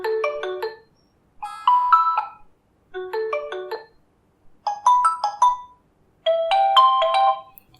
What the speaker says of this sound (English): at the bottom we have Xiaomi ringtones, that is MI ringtones